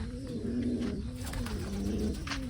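Domestic pigeons perched on a wooden stick coo in low, rolling, repeated calls, close by and continuous, with no talking.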